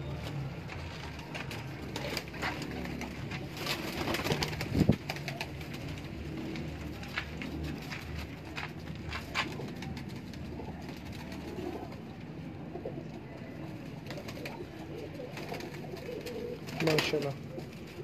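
A large flock of breeder pigeons in a Lahore loft keeps up a continuous low cooing throughout, with someone talking over it and a sharp knock near the start.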